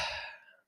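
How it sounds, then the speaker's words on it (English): A single deep exhale through the mouth during a guided breathwork session, a soft breathy rush that starts full and tapers away over under a second, close and alone. "exhale through the mouth"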